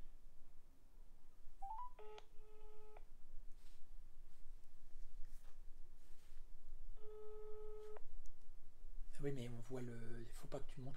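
A telephone busy signal heard while a radio show tries to reach a caller by phone, two bursts of repeated tones separated by a pause, fairly clear over a low background, followed by a louder dialing tone sequence at the end.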